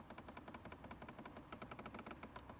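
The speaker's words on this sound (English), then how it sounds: "nice clicking sounds for the climate unit, temperature and fan speed" Rapid, crisp plastic clicks from turning the temperature and fan speed knobs on a 2026 Nissan Micra's climate control, an irregular run of small detents heard up close and quiet.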